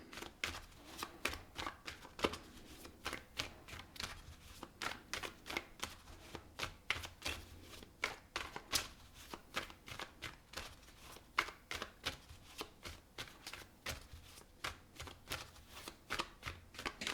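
Tarot cards are shuffled in a long, steady run of quick riffling bursts at close range, fairly quiet and without any talking.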